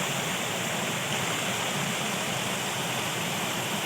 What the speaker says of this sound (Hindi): स्पीड नाल पानी बह रहा